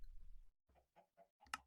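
Duck in the video game Minecraft: a series of short, quiet clucking quacks, about four spaced calls ending in a sharper one, heard alone at low level.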